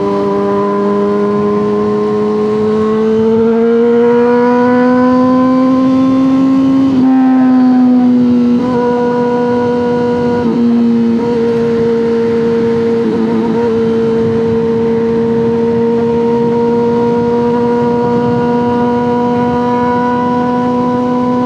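A car engine runs as a loud, continuous droning hum, its pitch rising and dipping slightly as it revs, steady for the whole stretch with no voices.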